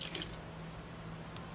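Water poured onto sphagnum moss packed around the root ball of a Nepenthes pitcher plant during repotting: a short, soft, wet splash at the start, then near quiet.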